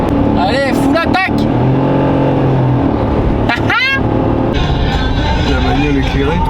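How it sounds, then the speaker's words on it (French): A Kawid car's V6 engine revs and roars up close in a series of rising and falling pulls, with sharp gear-change dips, while people talk over it. "Le bruit du V6, magnifique."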